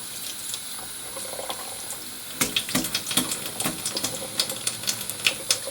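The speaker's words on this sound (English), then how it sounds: "Then I'm going to rinse it off." A shaving brush rinsed under a running tap, with a steady low wash of flowing water and a burst of splashy, irregular spattering and dripping as the brush is worked through the stream.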